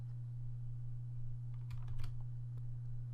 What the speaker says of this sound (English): we need to open the command prompt by pressing Shift F10